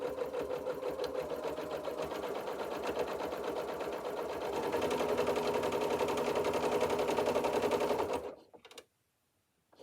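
Sewing machine stitching scrap fleece mittens runs in a fast, even needle rattle, close and steady, speeding up briefly midway before stopping abruptly near the end with a few soft handling sounds.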